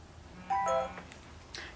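A short electronic chime from a phone, a few quick tonal beeps stacked close together, with a couple of fainter clicks afterward in a quiet room during a gift unboxing.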